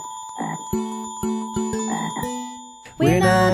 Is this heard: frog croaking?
yes